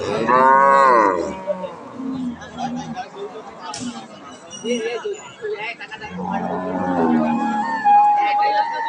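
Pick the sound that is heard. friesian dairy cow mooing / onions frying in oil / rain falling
friesian dairy cow mooing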